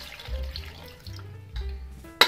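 Short bursts of water pouring and splashing into a pressure cooker holding potatoes, stopping and starting, ending with a sharp metallic clank.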